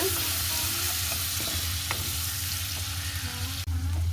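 Spices are stirred into pickle frying in a pan, giving a continuous soft sizzle broken by occasional scraping stirs, with no voices.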